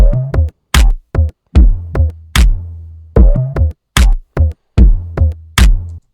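Sparse hip-hop verse drums, with a second drum loop layered over the first: sharp isolated hits with deep ringing bass tails, punchy and close, falling in a repeating, halting rhythm separated by silences.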